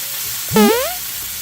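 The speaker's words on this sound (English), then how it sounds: "I'm going to go ahead and flip the burger" A burger patty sizzles in a hot pan just after being flipped, a steady close hiss with a brief squeaky scrape rising over it midway.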